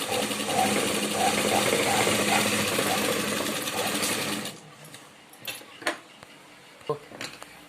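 A sewing machine stitches a blouse lining at the shoulder in a loud, continuous run for about four seconds, then stops, leaving scattered quiet clicks and handling noises.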